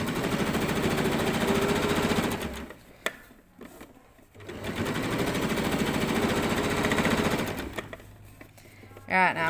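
A home sewing machine stitching the thick waistband of summer shorts, running in a steady fast rattling hum. It stops briefly for a readjustment, then starts again, with faint clicks near the end.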